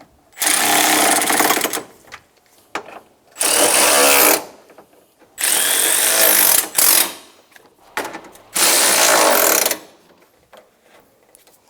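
A power tool drives the radiator mounting bolts on a 2000-2006 Toyota Tundra in four loud whirring bursts of one to two seconds each, separated by short pauses.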